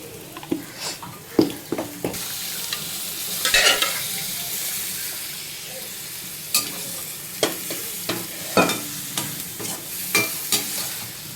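Cumin, black pepper and a cinnamon stick dry-roast in a pan for a mutton pepper fry, with a soft sizzle broken by repeated sharp scrapes and clatters of a spoon stirring, close and alone.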